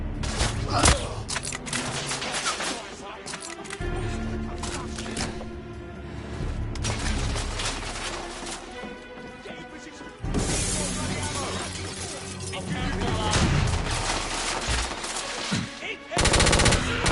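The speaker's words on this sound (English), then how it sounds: "Sentry weapons aboard an airship." Sentry weapons aboard an airship in The Order: 1886, loud sustained automatic gunfire with bursts, crashes and shattering, a dense battle din that cuts off and resumes.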